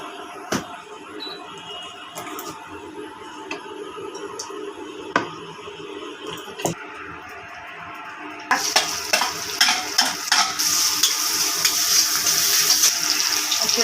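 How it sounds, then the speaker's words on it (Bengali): Oil goes into a pan for cooking katla fish, bringing a sudden rise in bright, hissing sizzle partway through after a stretch of quieter kitchen clatter and faint bumps, steady and close with no speech. "এখন দিব তেল।"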